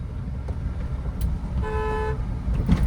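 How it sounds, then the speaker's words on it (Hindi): A car horn gives a single held toot of about half a second over a low engine and road rumble, as a learner driver practises on a local road. "लॉन्ग हॉर्न प्रेस करो"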